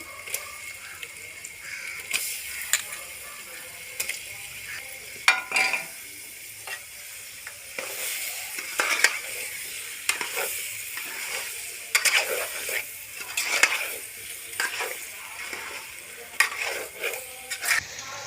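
Chicken pieces fry in a pan with ginger-garlic paste and are stirred steadily, sizzling under repeated scraping and clattering strokes close by, with no talking.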